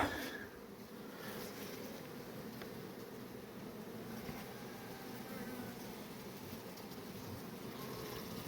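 A steady, dense hum of young honeybees buzzing around an opened hive, continuous and fairly faint throughout, with no speech over it.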